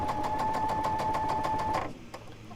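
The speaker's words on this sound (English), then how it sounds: "So I am just sewing the middle block and the side block together." A sewing machine stitches table runner quilt blocks together with a fast, even run of needle strokes and a steady motor whine that stops abruptly, followed by a few quiet clicks, close and with no speech.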